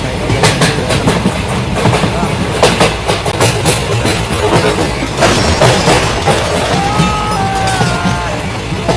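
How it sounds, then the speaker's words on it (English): A train rumbles past in a Friday the 13th video game, with steady clattering and rattling, loud and close, and a faint high squeal near the end. "Did you get it before the train hit?"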